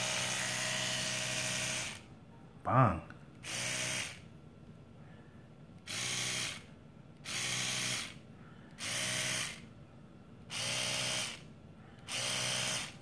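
An Oral-B Vitality Dual Clean electric toothbrush buzzes in repeated bursts of about a second each, about seven in total with short gaps, close and fairly quiet, with one brief clunk between early bursts.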